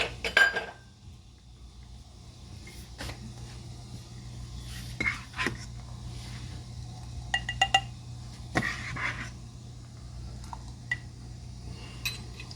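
Homemade blueberry jam being ladled from a pot into jars in a home kitchen: scattered metal-on-pot scrapes, clinks and glassy taps at an unsteady rhythm, fairly faint over a low steady hum, with no talking.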